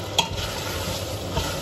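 Pasta in olive oil is stirred and warmed in a pan, a soft continuous sizzle with two clear scraping stir strokes near the start and end, no speech.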